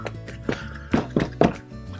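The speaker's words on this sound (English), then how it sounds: "I just flick the excess water out of the brush." A wet paint brush is flicked to shed excess water while making a beach painting, giving four short, sharp taps spaced unevenly over a couple of seconds against a quiet background.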